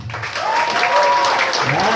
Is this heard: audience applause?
yes